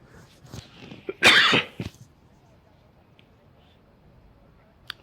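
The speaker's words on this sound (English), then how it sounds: "Sorry if you hear that cough." A single sharp cough from someone with a seasonal cold, close to the mic and loud against the faint ambience of a boys' high school soccer game, followed by a couple of smaller after-bursts.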